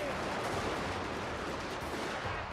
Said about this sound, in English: That Shogunate Guard Infantry is getting gunned down by that Royal Marine.